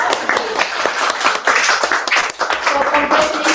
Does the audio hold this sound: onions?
no